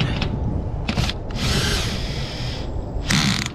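Power drill driving a sealing screw with a washer into a metal roof, short whirring bursts then a longer sustained spin and a final burst, loud and close over outdoor background noise.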